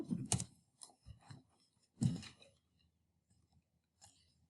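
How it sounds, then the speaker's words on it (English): Keyboard keys clatter in a few short bursts of quick clicks, close and fairly quiet, with gaps of near silence between them. "The typing is messing me up a little bit."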